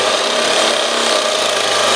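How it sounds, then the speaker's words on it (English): The edge of a steel patch for a door on a steel trawler is beveled, producing a loud, steady, continuous abrasive grinding rasp close up with no voices. "now we'll just bevel the patch as well"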